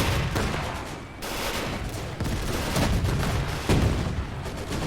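Sustained machine gun fire and overlapping gunshots in the WWII strategy game Gates of Hell, a dense fusillade with heavy low booms, continuous and loud throughout with no voices.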